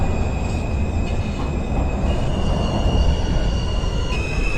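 A Queens-bound R subway train in the openBVE simulator pulls away from a station, a continuous loud rumble of wheels and motors with faint high squeals and tones, steady throughout.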